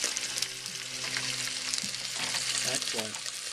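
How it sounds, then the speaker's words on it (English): Half a chicken sears in hot oil, a continuous hissing sizzle with a few soft knocks of the pan underneath. "it's sizzling. It's gotten up to heat."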